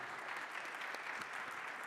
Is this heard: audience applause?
yes